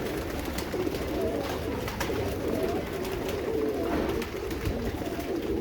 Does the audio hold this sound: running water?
no